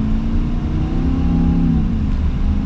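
A 2021 Ram 2500 Night Edition with a 6.4-liter Hemi V8 and 8-speed automatic accelerates from inside the cab, a loud steady engine drone with rising harmonic tones that shift once partway through as it pulls.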